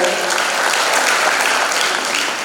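Steady applause from parents at a girls' fifth-grade school public exam and performance, dense and continuous clapping filling the room for a couple of seconds with a faint voice underneath.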